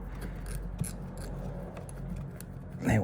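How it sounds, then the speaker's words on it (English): Pipe cutter working through a radiator pipe, a steady close rasping scrape under a low background hum, ending in a louder burst of grinding near the end. "I'm going to cut the pipe"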